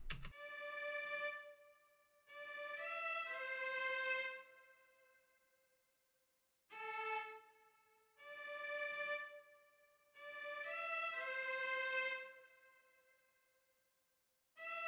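Synthesized strings section in a dark hip-hop beat with reverb and delay, playing sustained chord swells that rise and fall in several phrases separated by gaps, fairly soft and alone.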